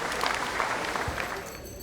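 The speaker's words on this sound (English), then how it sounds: "Round of applause." Crowd at a Breakfast of Champions sports awards event gives a round of applause, a steady wash of many hands clapping that begins to thin toward the end.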